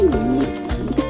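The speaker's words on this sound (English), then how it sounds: "Pigeon, pigeon, pigeon, pigeon." A pigeon coos in a low, throaty, rolling call, close and clear, with a few repeated soft cooing phrases over a little more than a second.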